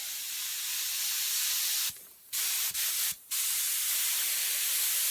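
Spray gun spraying color onto a leather or vinyl car seat at about 10 psi, a steady close airy hiss broken by two brief pauses as the trigger is released.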